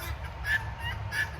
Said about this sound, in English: we found the birds out here on the trail